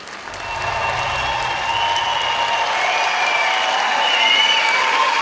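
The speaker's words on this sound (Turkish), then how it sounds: "Kocaman alkışlarla bu aile tablosu için kocaman alkışlar gelsin" Sustained audience applause with some cheering at a campaign candidate introduction rally in Ankara, building quickly and holding steady and fairly loud throughout.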